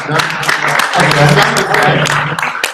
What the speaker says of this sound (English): Round of applause over here.